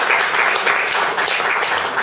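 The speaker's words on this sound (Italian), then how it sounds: "Un applauso." Brisk applause from an audience at an Italian municipal council session, many hands clapping in a dense, loud, continuous burst with no talk over it.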